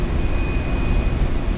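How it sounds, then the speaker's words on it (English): Waste oil exhaust fan running in the engine room of a VLCC tanker: steady, loud, low-pitched mechanical roar with a thin constant whine on top, close by and unbroken. "we'll pass by the waste oil exhaust fan"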